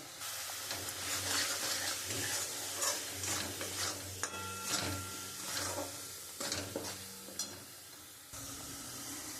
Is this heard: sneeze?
no